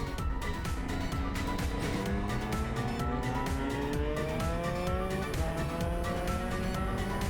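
An Audi accelerates hard, its engine note climbing steadily in pitch through the gears, loud and continuous under road and tire noise, with no talking.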